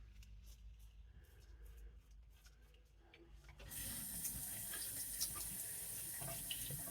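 Water starts running from a shower head with a filter partway through, a steady close hiss of flow after a quieter stretch of faint handling noise.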